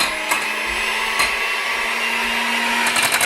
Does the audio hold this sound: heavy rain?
no